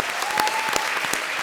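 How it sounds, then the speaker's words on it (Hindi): Steady applause from a comedy show studio audience, dense and sustained clapping throughout with a few sharper claps standing out. "जोरदार तालियां"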